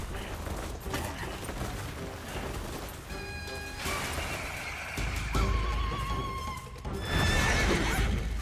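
A horse whinnies loudly several times amid game noise from Black Myth: Wukong, with hoofbeats and clattering effects, and voices in the background.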